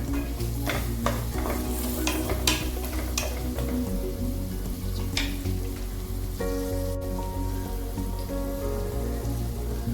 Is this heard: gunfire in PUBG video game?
no